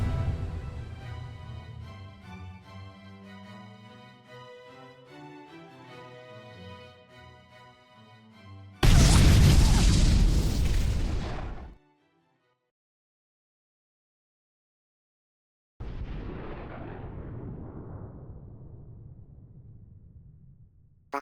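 A loud broadband burst cuts in after a stretch of playing music, lasts about three seconds, drops into silence, then a second long, decaying rumble follows, like a cartoonish explosion effect in an animated anime-style story.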